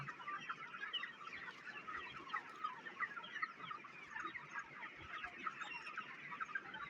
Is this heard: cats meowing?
no